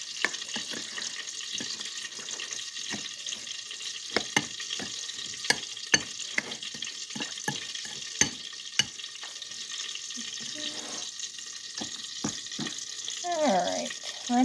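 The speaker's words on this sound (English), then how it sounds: "Sprinkle in the cinnamon. Okay, I'm going to mix this up then." A mixture with sprinkled-in cinnamon being stirred, giving a run of close, uneven scraping clicks and knocks in a quiet kitchen, with no talking.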